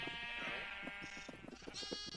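A sheep in a video game bleats several times in quick succession, close and clear, with a second wavering bleat near the end.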